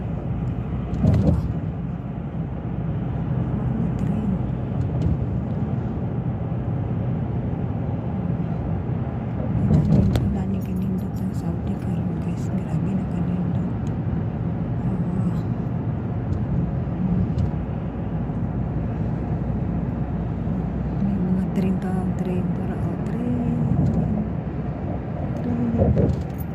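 A train passes at night on the line to Dammam, Saudi Arabia, a continuous moderately loud rumbling roar with a few brief louder swells, heard from outside the train.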